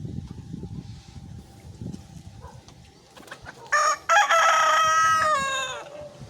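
Chickens in a coop, soft clucking and rustling at first, then a rooster crows loudly and close by in a long drawn-out call.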